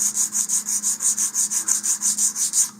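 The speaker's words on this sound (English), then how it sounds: "I am using 100 grit sandpaper to do the initial shaping here." A part for an AMRAAM model rocket is hand-sanded with 100 grit sandpaper for initial shaping. Roughly fifteen quick, even back-and-forth rubbing strokes are heard up close with no talking.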